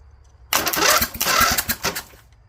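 A Cub Cadet 2165 lawn tractor engine cranks to start, a sudden loud burst of rapid, rhythmic cranking chugs lasting about a second and a half before cutting off, close and alone.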